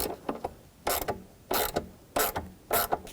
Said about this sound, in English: Use a 10mm socket and loosen it up.